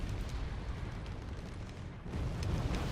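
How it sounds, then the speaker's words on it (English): An M108 howitzer fires in the war game Wargame Red Dragon, a muffled, rumbling artillery boom rolling under a continuous low wash of battlefield noise, with a second swell near the end. "Artillery being fired"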